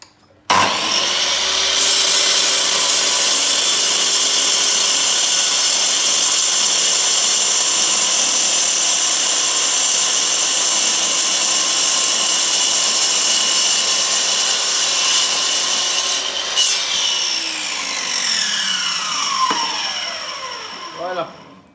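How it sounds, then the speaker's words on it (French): A power saw blade slices rounds from a wooden log, a loud steady cutting whine running almost the whole time, with the pitch dropping and the blade winding down near the end. "je fais une première coupe pour me mettre perpendiculaire à ma lame"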